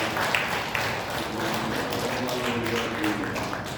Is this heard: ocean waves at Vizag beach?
no